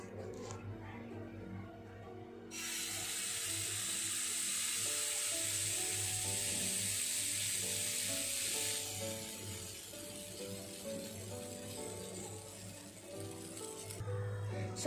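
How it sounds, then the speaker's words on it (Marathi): Pancake batter frying in a pan, a steady close sizzle that rises sharply and holds, then eases off slightly, with a low background hum throughout. "आता हे फ्राय होते, जरा थांबावं लागेल"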